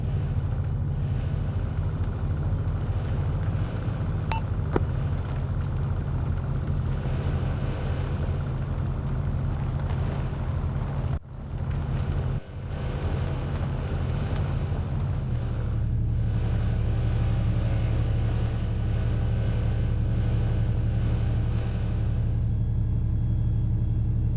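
A vehicle rolls down an airfield runway with a heavy, continuous low rumble and engine drone. The sound briefly dips, then settles into a deeper, steadier roar.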